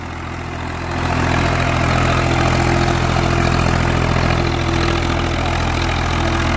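A Swaraj 735 tractor engine pulling an 11-tine cultivator drones steadily with a deep, loud, continuous rumble that rises slightly after the first second and holds.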